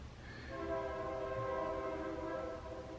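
A train horn sounds in long, steady, chord-like blasts while the train rumbles past nearby, carrying on loudly and evenly for about three seconds with no voices over it.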